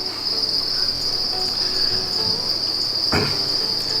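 Crickets on a cricket breeding farm chirp in a dense, steady high-pitched trill that runs unbroken throughout, with a brief knock or rustle near the end and no talking.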